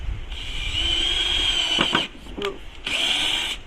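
A power drill drives screws into timber for a cheap garden bed, whirring in two long close bursts with brief clicks and a short pause between them.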